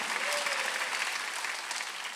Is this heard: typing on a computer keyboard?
no